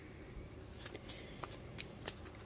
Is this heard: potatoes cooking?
no